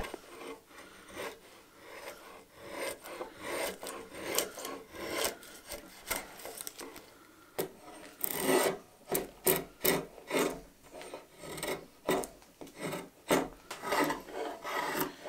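Hand tools shave and rasp the wooden handle of a hand-made broom, with irregular rough scraping strokes close up that grow louder and quicker in bursts, with no voices.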